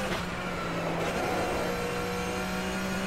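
Flat-six endurance race car engine in the rFactor sim at Bathurst, downshifting: a loud, close, steady droning roar with a held low pitch and slight shifts in tone, no talk.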